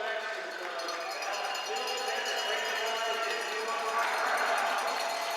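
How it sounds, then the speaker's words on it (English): Crowd applause at a junior hockey game between the Wildcats and the Amarillo Bulls, given for a retirement announcement: steady, dense clapping and cheering from a large arena crowd, sustained throughout at even loudness. "the round of applause you're hearing now"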